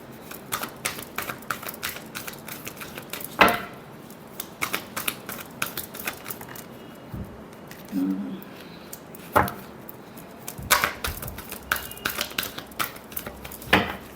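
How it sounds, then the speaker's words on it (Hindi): Tarot cards shuffled by hand at close range: sharp, crisp riffles and taps come in scattered bursts with quieter gaps between them, over a faint background hiss. "last shuffle"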